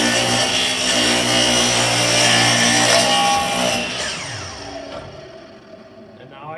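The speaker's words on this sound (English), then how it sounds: "That's the correct use of the miter saw." A miter saw runs loud and close, its blade whining steadily through a cut for several seconds before spinning down and fading toward the end.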